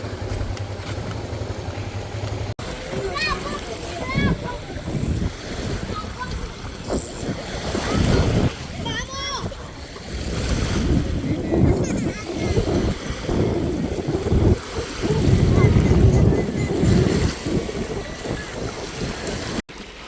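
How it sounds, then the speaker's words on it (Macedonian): Waves washing onto a beach on Lefkada under gusty wind noise, with people talking over the surf throughout. "ова се брановите во прашање"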